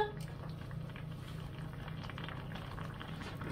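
A pot of food simmering on a stovetop, a soft, continuous low bubbling with a faint steady hum, quiet and close, with no talking.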